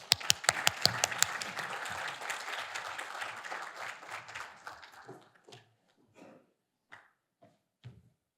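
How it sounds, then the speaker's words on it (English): Audience applause at a lunchtime conversation event, a crowd clapping steadily and fairly loudly for several seconds before thinning out into a few scattered, fading claps. "A round of applause for her, please."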